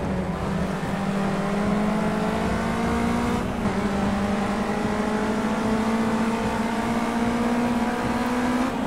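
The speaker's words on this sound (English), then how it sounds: "I will test the open wheel cars" An open-wheel race car engine in Project Cars 2 drones at high, steady revs, with a slowly rising pitch. A brief dip at the gear change marks an upshift, and the sound stays loud and close throughout.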